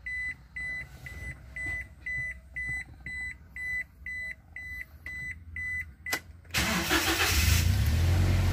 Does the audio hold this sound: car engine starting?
yes